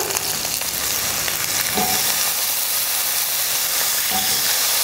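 Potatoes sautéing with shallots and curry leaves in a new kitchen pan, a loud, continuous hissing sizzle close up, with a couple of light stirring knocks and no speech.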